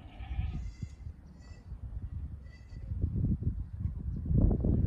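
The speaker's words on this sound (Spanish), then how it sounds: "La cabra es una cabra buena" A goat bleats in short wavering cries early on, then a newborn kid's bleats recur over nearby rustling and shuffling of livestock on a farm, moderately close.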